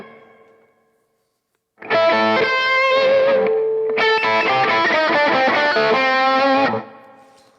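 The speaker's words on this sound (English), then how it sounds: "I do have a little bit of reverb on the guitar sound as well" A distorted electric guitar plays a blues-rock phrase with reverb, loud and up front in a mix, after a brief quiet pause. The notes ring out and then decay.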